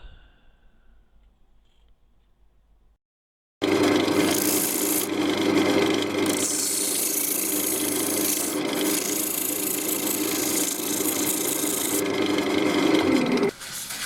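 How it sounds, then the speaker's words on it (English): Hand sanding inside a yew wooden box lid, a close, loud rasping scrub repeated steadily for about ten seconds after a quiet opening. "I'm just going to sand away these whiskers on the inside of the lid"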